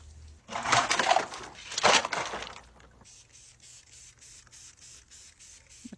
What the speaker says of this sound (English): He's spraying it with some stuff.